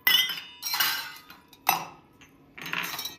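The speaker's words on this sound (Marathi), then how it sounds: "भांड्याचा आवाज कुठून उरलाय" Metal kitchen utensils clink and clatter in four short bursts separated by brief pauses, close and fairly bright, with no talking.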